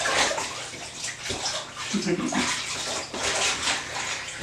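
Water sloshes and swishes in a basin as latex is pushed down under the water and stirred by hand, with soft splashes and gurgles throughout, close up.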